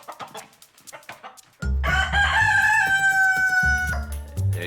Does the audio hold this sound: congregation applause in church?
no